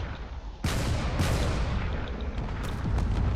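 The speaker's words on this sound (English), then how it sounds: "there's a lot of cannon fire moving back and forth over here" Heavy cannon fire exchanged between space ships in a video game battle, a sudden loud booming onset followed by rolling, overlapping blasts and rumbling impacts that keep going.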